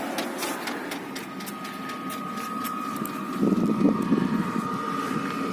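A parking air heater runs inside a Caddy van with a steady whirring fan drone and a faint tonal hum, rising briefly into a rougher rumble midway before settling back to an even blow.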